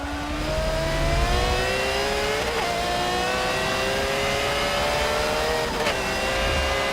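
A Forza 7 race car engine screams at high revs, shifting gears twice with rising whines between, loud and continuous with no voices.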